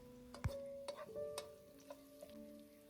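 Bay leaf, cumin and garlic fry in two tablespoons of olive oil in a hot pan, giving a faint, low sizzle with a few soft stirring clicks.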